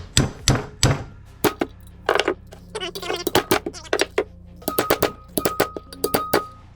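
Sharp, percussive metal whacks on a damaged Chevy cylinder head valve being seated during valve lapping, in uneven clusters of close, ringing taps with short pauses.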